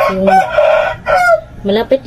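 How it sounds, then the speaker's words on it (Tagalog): Loud, nearby rooster crowing in two or three drawn-out calls separated by short breaks. "pasensya na kayo sa manok namin, sobrang ingay ba."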